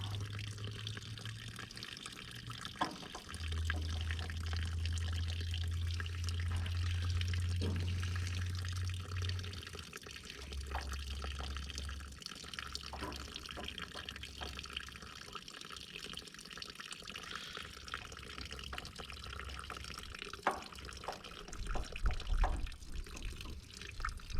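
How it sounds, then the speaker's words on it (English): A thin, steady trickle of fuel drains from the carburetor of an Allis Chalmers WD tractor into a bucket, a faint continuous liquid hiss with occasional small drips and clicks over low background noise. "I've got the fuel draining into a bucket"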